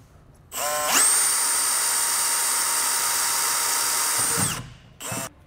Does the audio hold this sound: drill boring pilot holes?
yes